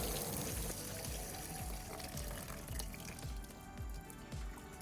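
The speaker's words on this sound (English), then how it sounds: "I'm just gonna dump this watering can in." Water pours from a watering can into a bucket, a steady splashing trickle with rhythmic gurgling pulses as the can empties.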